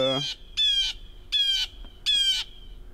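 A bird squawks four times in a snowy yard, harsh raspy calls at a steady pace, loud and close, alone with no talk.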